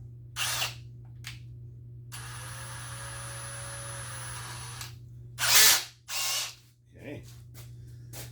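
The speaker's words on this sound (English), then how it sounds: "Then I'm just going to put this in my drill." A power drill spinning a battery terminal cleaning brush runs steadily for about three seconds, a smooth whine with brushing friction, followed by short clunks and handling sounds; a person speaks briefly.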